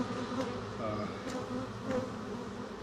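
Stirred-up honey bees buzz in a thick, continuous, close drone, with a few individual bees whining past.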